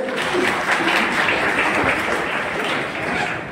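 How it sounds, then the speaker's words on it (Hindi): An audience claps to welcome guests at a national self-respect movement programme, a brief, full burst of steady applause from a crowd. "बहुत ही सुंदर एक ताली के साथ हम सब स्वागत करेंगे"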